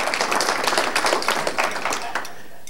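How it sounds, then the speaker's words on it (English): A crowd applauds steadily with dense, bright clapping that fades slightly near the end, with no one speaking over it. "So please give Josh a well-deserved round of applause."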